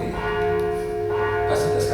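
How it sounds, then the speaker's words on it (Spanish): Church bells peal steadily across the whole stretch, calling the faithful to Mass, their sustained ringing tones layered and continuous at moderate loudness with no voice over them. "pasan las campanas, es que no puedo hablar, no me vaya a salir ahorita a misa porque están llamando a misa."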